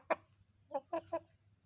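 Thai chickens clucking, one sharp loud cluck followed after a pause by three shorter clucks in quick succession, moderately close over a low steady background hum.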